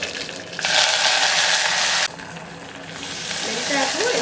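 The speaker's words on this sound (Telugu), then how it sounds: "నూనె వేడెక్కింది ఎండుమిర్చి మెంతాకు వేస్తున్నాను" Dried red chilies and fenugreek leaves dropped into hot oil set off a sudden loud sizzle that holds for a moment, then settles into a quieter steady crackle and slowly builds again.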